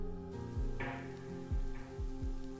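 Steady rainfall patters in the Japanese adventure game 思い出の記憶 near a small hut, a constant close hiss broken by a few soft low thuds, with no voices.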